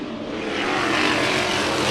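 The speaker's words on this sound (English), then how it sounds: "You can hear the exhaust is all bent up too." Kirk Morgan's number 32 race car with a bent, damaged exhaust roars steadily at a heat race, a loud, continuous engine drone that builds slightly and holds at close range.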